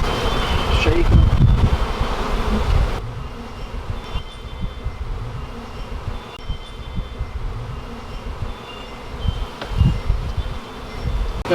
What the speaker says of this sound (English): You know, these bees could have swarmed.